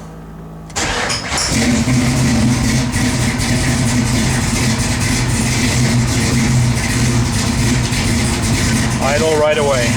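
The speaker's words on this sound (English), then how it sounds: "Cold start in the morning." A Shelby V8, stone cold after a cylinder head rebuild, cranks at about one second, then catches and settles straight into a loud, steady, rumbling idle that holds to the end, with a brief voice heard near the close.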